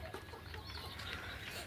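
A three-month-old Golden Misri chicken chick clucks softly on a poultry farm, the calls short and scattered over a steady, noisy background.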